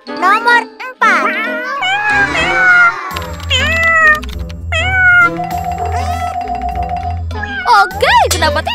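Many kittens meow in a cartoon, with repeated high, wavering cries layered over music and someone talking throughout.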